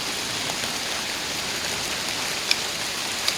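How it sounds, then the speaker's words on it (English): Steady, even rainfall hisses close by with a couple of faint drips; no thunder is evident. "I ordered some rain and thunder for you."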